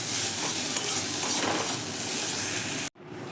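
Onion and garlic frying in a pan for a hilsa fish-tail bharta give a dense, steady sizzling hiss that runs close and even, then cuts off abruptly near the end.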